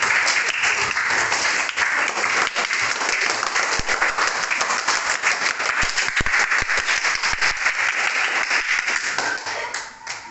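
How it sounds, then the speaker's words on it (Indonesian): A classroom bursts into continuous applause for a student group after their series and parallel electric circuit presentation, with many hands clapping loudly and steadily before tapering off at the end. "beri tepuk tangan untuk kelompok 3"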